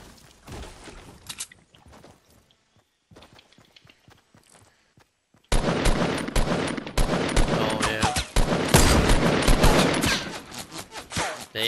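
Gunfire in the Fortnite video game, sparse scattered shots at first, then a loud sustained burst of rapid crackling fire that keeps going to the end.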